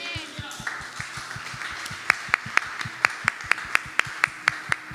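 Steady rhythmic hand clapping in unison at a church service, a regular beat of claps joined by sharper, louder claps, with a murmur of the congregation underneath.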